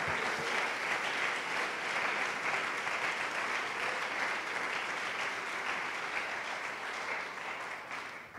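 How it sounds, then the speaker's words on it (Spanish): A church congregation claps for the Lord during a sermon, giving a continuous, even roar of many hands that holds steady for over eight seconds and tapers slightly at the end, with no talking on top. "Si ese aplauso es para el Señor, dáselo fuerte."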